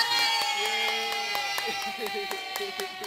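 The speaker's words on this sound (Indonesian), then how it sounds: "tepuk tangan, Helen, tepuk tangan, tepuk tangan" A family claps hands during a home Eid gathering, a run of sharp irregular claps over lively chatter and children's voices.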